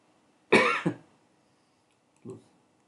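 A man coughs close to the microphone, a sharp double cough followed after a pause by a single softer cough, in an otherwise quiet room.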